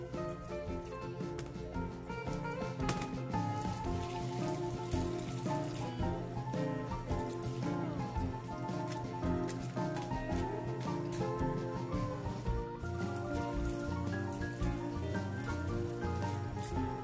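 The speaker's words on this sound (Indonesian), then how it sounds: "cuci bersih untuk lemonnya dan juga daun mintnya kita cuci" Lemons and mint leaves are rinsed in water, giving a soft, continuous splashing and trickling that runs quietly beneath prominent background music.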